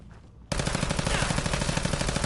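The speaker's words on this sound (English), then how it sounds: "He's gonna shoot at his armor, he's gonna shoot us." Sustained rapid automatic gunfire in the video game Fallout 4 erupts abruptly after a brief quiet moment and continues as dense, loud, unbroken bursts.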